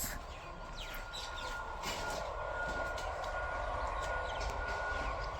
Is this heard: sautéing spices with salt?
no